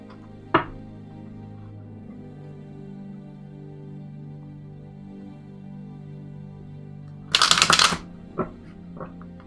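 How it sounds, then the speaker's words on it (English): Tarot cards riffle-shuffled in a quick burst late on, a dense crackling flurry of card edges followed by a few soft taps, over a low steady musical hum. "I swear I can shuffle."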